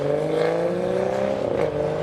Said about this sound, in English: Okay, here comes the colourful convoy, starting with Luke's M140i in the BMW Art Car livery.